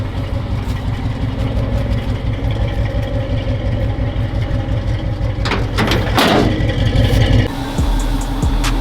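Car engine idling steadily while running on a counterfeit carburetor, a loud, even, rumbling drone heard from behind the vehicle, with a few sharp clatters and a shift in tone near the end and no talking.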